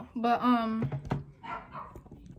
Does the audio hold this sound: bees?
no